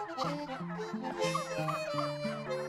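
Turkeys on a farm raising 650 birds gobble and cluck in a busy, overlapping chorus of repeated calls, close and lively, with no people speaking.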